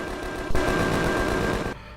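Rapid automatic gunfire from the Empyrion sci-fi survival game rattles in one sustained burst of tightly packed shots, loud and close, breaking off cleanly before the end.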